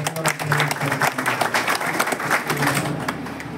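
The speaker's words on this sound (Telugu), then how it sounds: "చంద్రబాబు గారు చేసిన సహాయానికి మరి ఒకసారి చప్పట్లు కొట్టి" Audience applause at a public event in Vinukonda where CM relief fund cheques are handed out, a steady burst of many hands clapping close by, holding level for several seconds before easing slightly at the end.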